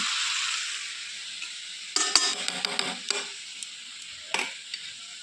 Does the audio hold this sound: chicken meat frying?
yes